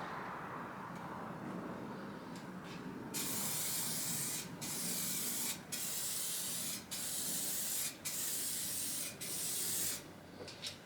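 A spray gun lays a light tack coat of paint on a VW bus, heard as close, loud bursts of hissing spray in several passes separated by brief gaps, over a low background hiss.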